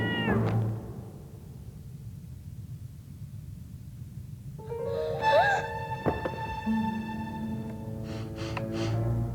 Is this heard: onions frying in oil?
no